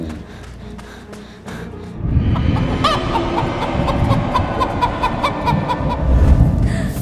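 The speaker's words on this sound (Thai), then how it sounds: "ได้ยินเสียงไก่ดังมาจากด้านหลัง" Chickens clucking in short repeated bursts over a rumbling, noisy background, moderately close, with scattered clicks and knocks throughout.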